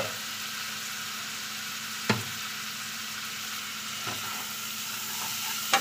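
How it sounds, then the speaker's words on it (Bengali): Spice paste for a fish curry fries in a pan with a steady, moderate sizzle, broken by a few sharp knocks of a spoon or utensil against the pan. "মশলাটাকে ভালো করে কষিয়ে জল দিয়ে দেবো, একটু ভালো করে গায়ে কষিয়ে নিই"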